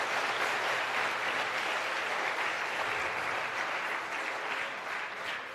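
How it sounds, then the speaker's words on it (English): A large crowd applauding at a Formula SAE Michigan Electric award ceremony, producing a continuous, full roar of clapping that tapers slightly at the close. "So let's give them a big round of applause."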